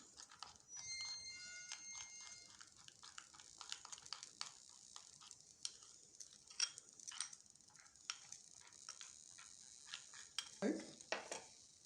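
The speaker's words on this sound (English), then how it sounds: "Mix it with little milk which is remaining. Then mix nicely. There should not be any lumps." Spoon stirring flour mixed with milk in a bowl or pot for homemade baby food, a series of quick scraping, clinking strokes in a fairly steady rhythm, close and moderately quiet, with a louder knock near the end.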